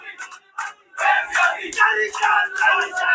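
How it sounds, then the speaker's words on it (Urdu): A crowd rhythmically chanting political slogans for Imran Khan as prime minister at an election gathering, loud repeated shouted bursts with short gaps between them. "عمران خان وزیر اعظم کے نعرے لگے ہیں"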